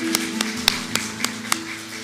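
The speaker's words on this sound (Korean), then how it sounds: "우리 부활하신 주님 앞에 박수로 영광 올려드리도록 하겠습니다." During a church worship service, hands clap in a steady, even rhythm, about four claps a second, over sustained music.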